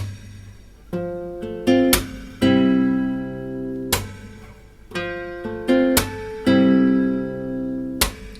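Slow fingerpicked acoustic guitar pattern: plucked notes and chords ring out one after another in a steady, unhurried pattern, close and clear.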